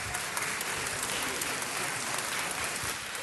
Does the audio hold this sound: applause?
yes